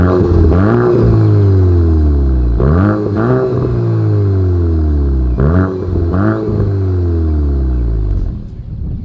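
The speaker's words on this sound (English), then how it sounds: "here is that exhaust clip" A 2024 Volkswagen Golf GTI exhaust revs up hard several times, each rising roar dropping back to a rumbling idle between blips, loud and close.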